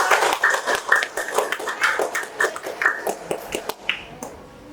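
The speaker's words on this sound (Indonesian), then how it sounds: "Kalau sudah benar kita tepuk tangan dulu." A classroom of students clapping hands in an Islamic studies lesson, uneven and rhythmic bursts of claps close by, some louder pops, dying away after a few seconds.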